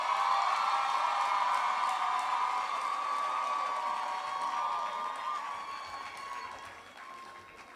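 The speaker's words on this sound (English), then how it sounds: "Clap your hands." Graduation ceremony audience clapping for new degree holders, a dense, continuous wash of applause with faint cheers, heard from within the crowd and gradually tapering off toward the end.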